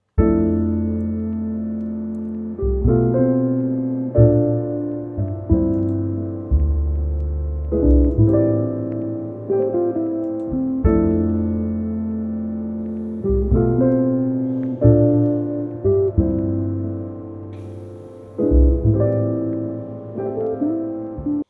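A mellow, jazzy music loop sample with warm chords and a soft bass line, repeating in steady phrases with no vocals.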